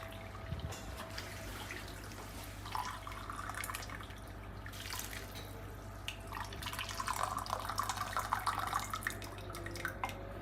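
2.5 cups of water poured into a pot of rice and chicken with its juices, splashing and trickling steadily for several seconds over a constant low hum, with no speech.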